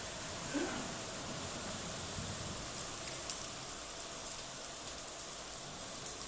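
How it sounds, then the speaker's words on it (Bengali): Rain falling in Kalitala makes a steady, soft, even hiss with no break or talking, faint and distant throughout. "দেখো কেমন বৃষ্টি হচ্ছে আমাদের কালীতলায়"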